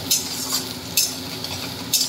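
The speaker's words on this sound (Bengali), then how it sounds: "পেঁয়াজটাকে লাল লাল করে ভেজে নিতে হবে" Onions fry in a pan while being stirred, a steady sizzle punctuated by about four rhythmic scraping strokes of a spatula, close and clear with no talking.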